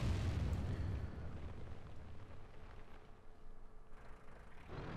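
A tank gun fires in the World of Tanks video game. One heavy boom comes at the start, followed by a low, rumbling engine drone. No one speaks.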